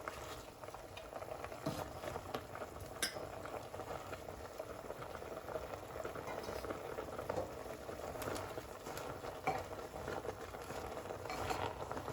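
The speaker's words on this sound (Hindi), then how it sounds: "तड़का जो है अच्छे से उबल गया है" Water with tempering oil boils steadily in a pot, a dense, even bubbling with small pops and crackles throughout, close and moderately quiet, with no talking.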